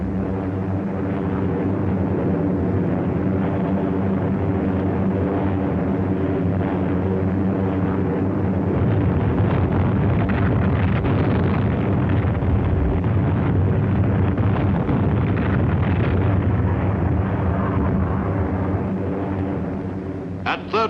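B-29 Superfortress bombers over Tokyo: a loud, steady, wind-blown engine roar that holds without a break, with no distinct bomb blasts standing out.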